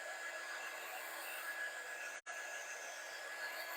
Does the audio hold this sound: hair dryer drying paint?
yes